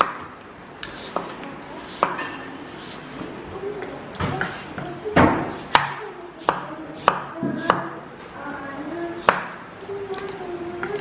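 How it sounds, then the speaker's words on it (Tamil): A knife thinly slices apples for a French apple cake, giving a series of sharp, close cuts and taps on a board at an uneven rhythm, with a person talking in between. "இந்த மாதிரி 2 ஆப்பிளையும் ஸ்லைஸ் பண்ணிவிட்டு காணிக்கிறேன்"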